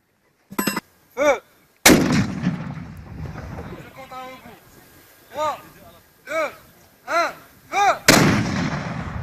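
Artillery firing during an officer cadet field exercise of the Moroccan armed forces: a series of loud, sharp booms spaced a second or so apart, each ringing out and echoing across open ground, with wind noise between shots.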